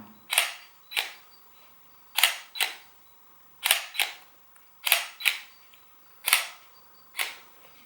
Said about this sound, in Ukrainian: Ось так відбувається фокусування на цім кітовому об'єктиві.